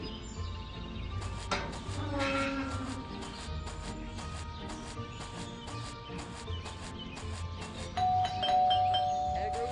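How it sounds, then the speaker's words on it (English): A doorbell in the mobile game Scary Teacher 3D rings in repeated bright chimes over a busy background of game music and effects. "that stupid bell again."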